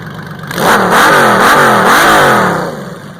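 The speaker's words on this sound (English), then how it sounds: "But this is a 6-cylinder engine." A powerful six-cylinder engine on a 1998 Honda Valkyrie GL1500CT motorcycle with baffles removed revs hard and loud, climbing and dropping in pitch through several throttle blips before easing off.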